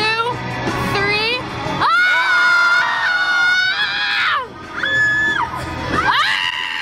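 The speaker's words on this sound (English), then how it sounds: "When me and my friends are stressed, we like to have a collective scream together." A group of friends let out a long collective scream together, several voices shrieking loudly at once in sustained, wavering cries with brief breaks between bursts.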